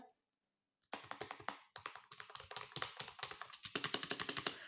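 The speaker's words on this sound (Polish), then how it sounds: "Uwielbiam te dźwięki klawiatury, lubię takie głośne." Rapid, close clacking of keys on a computer keyboard after a brief silence, with a fast, steady rhythm that gets denser toward the end.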